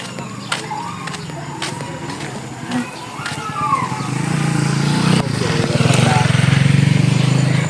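A motorcycle engine idles roughly outdoors, then builds into a louder, steady drone, with scattered clicks and knocks early on and people talking over it.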